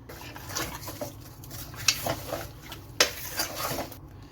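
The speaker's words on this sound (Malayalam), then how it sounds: "ഇതൊന്ന് നന്നായിട്ടൊന്ന് മിക്സ് ചെയ്യാം" Spoon scraping and clinking around a metal pot as spices including cardamom are stirred for mutton biryani, a few sharp knocks standing out over a soft sizzle.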